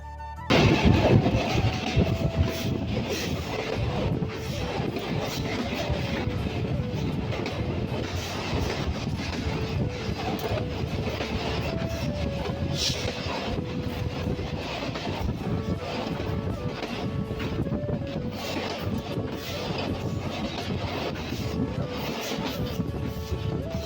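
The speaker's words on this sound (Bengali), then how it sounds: "দেখুন কি অসাধারণ গতিতে আমাদের ট্রেনটি কিন্তু ছুটে চলেছে কুষ্টিয়ার উদ্দেশ্যে" A local shuttle train runs at speed toward Kushtia, heard from on board as a loud, continuous rumble with rhythmic clickety-clack of the wheels and buffeting wind across the microphone throughout.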